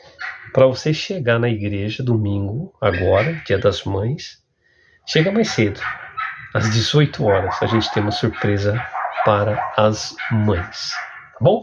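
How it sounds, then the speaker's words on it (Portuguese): Dogs bark nearby in the background during a prayer service while someone speaks steadily over them, his talk clearly louder than the barking. "Tem uns cachorros latindo aqui perto."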